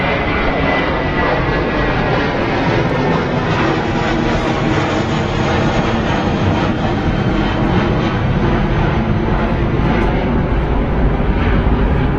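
A heavy jet airliner takes off from runway 27 right at London Heathrow, its engines roaring loud and steady for the whole stretch as a broad, close rumble with no voices.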